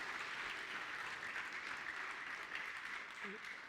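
A church congregation at an Ascension Day service clapping their hands together, a steady, continuous patter of many hands at moderate distance, with a faint voice briefly heard near the end.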